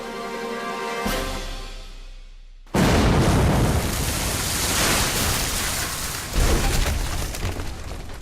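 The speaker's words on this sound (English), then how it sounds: "It's going to explode." A heavy blast erupts on a ship's deck, a sudden loud boom that rolls into a long, rumbling roar of debris and noise, followed by a second swell, with no talking.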